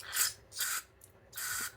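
Carb choke cleaner sprays in three short hissing bursts into the diaphragm passage of an old motorcycle carburetor, close up and fairly quiet, with brief pauses between.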